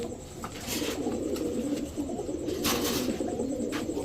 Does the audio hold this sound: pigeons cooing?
yes